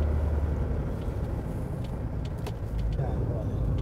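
A Mercedes 240D diesel car cruises at steady speed in fourth gear, its low engine drone and road rumble constant and close from inside the cabin, with a few faint clicks on top.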